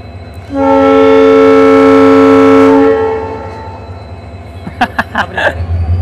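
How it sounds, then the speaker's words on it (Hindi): The Jodhpur-Jammu Tawi Express sounds a loud, sustained horn for about two seconds as it arrives at Suratgarh Junction, then fades into rumbling station noise with a few sharp clanks near the end. "हमारी ट्रेन आ चुकी है सूरतगढ़ जंक्शन पर"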